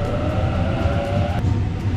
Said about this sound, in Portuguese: Tô aqui na estação de trem pegando,